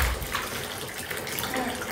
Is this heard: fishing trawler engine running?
no